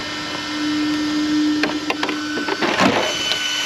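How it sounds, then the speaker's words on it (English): A broken motor cooling fan on an Arrma Outcast EXB RC car gives off a steady whirring drone with a sustained tone, broken by several sharp rattling clicks and scrapes toward the end, close up. "Hopefully I didn't break a motor fan because that's what it's kind of sounding like."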